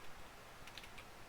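Faint, rapid keystrokes on a computer keyboard, a quick cluster of light clicks near the end over a steady background hiss.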